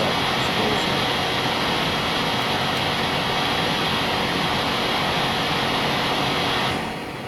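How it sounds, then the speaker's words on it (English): A Boeing 737's jet engines at full takeoff throttle in a flight simulator make a loud, steady broadband roar that holds throughout and eases slightly at the very end, with no talking. "we are here and ready for takeoff. Let's do this. Full throttle, flaps up"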